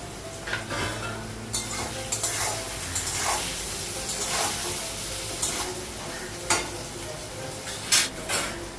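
Food frying in a pan in a home kitchen, a steady sizzle broken by repeated utensil scrapes and clinks against the pan, close and moderately loud.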